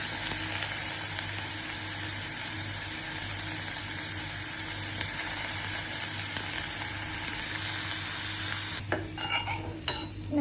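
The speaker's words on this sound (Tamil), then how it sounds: "கருவேப்பிலை வெங்காயம் எல்லாத்தையும் போட்டு பீன்ஸும் போட்டு நல்லா கலக்கிக்கலாம்." Beans, onion and curry leaves sizzle steadily in a pan as they are stirred, the frying hiss continuous and close, with a few louder scrapes and clinks near the end.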